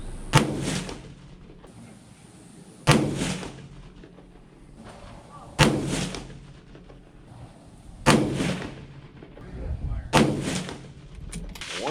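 A rifle at a shooting range during load development fires five heavy, booming shots about two to three seconds apart, each with a rumbling tail.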